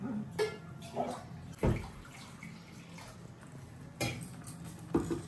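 Water is poured into a pot of chicken kurma in a few short splashes, with light clinks of metal in a quiet kitchen.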